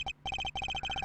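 A phone rings in the Apollo Justice: Ace Attorney video game: repeated bursts of electronic trilling tones, close and clear, with short gaps between the groups of rings and no talking.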